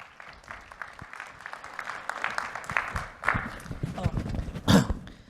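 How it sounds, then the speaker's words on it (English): Conference audience at a blockchain developer event clapping for a speaker taking the stage, a moderate scattered applause that swells and fades, with a loud bump and rustle near the end. "Please give him a round of applause."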